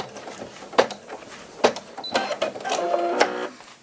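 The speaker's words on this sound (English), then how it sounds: "Right now what it's doing is our placement stitch" An embroidery machine stitching a placement outline, heard as close mechanical whirring bursts with clicks and a rising motor hum, no talk over it.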